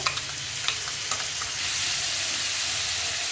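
Asafoetida, turmeric and a ground chilli-garlic masala hit hot oil for maswadi, crackling with sharp spatters and stirring clicks at first, then settling into a loud, even sizzle with no talk.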